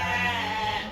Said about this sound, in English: That's why you can hear these sheep making a lot of noise.